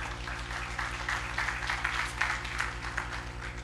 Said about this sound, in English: Okay, you're going to applause